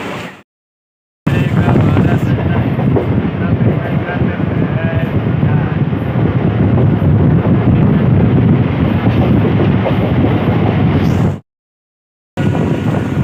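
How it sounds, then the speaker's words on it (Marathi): A moving Mumbai suburban train, travelling from Dadar to Churchgate, rumbles loudly and steadily, with rushing wind, broken by brief moments of silence near the start and end. "आता दादरवरनं ट्रेन पकडली. आता चाललो आहे चर्चगेटला."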